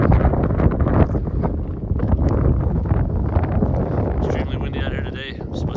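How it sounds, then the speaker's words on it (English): Strong gusty wind blowing outdoors on a trail, roaring and buffeting close against the microphone in a loud continuous rumble that swells and eases for nearly six seconds. "Extremely windy out here today."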